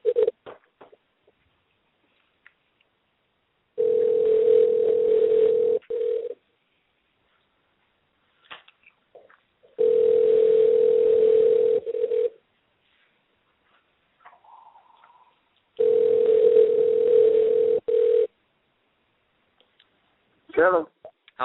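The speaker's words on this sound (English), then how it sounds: "now we're gonna attempt to get Tony Thompson on the phone right away for you" Telephone ringback tones while calling a boxer live on a combat sports radio show: three long steady tone bursts of about two and a half seconds each, separated by silent gaps with faint clicks.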